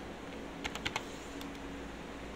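A computer keyboard clicks through a short burst of about five quick keystrokes while code is typed, close and crisp over a quiet room hum.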